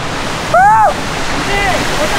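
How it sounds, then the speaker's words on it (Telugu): A waterfall at Kedarnath gives a steady, close rushing roar, with a brief voice rising over the water partway through. "కేదార్నాథ్లో. Beautiful water fall"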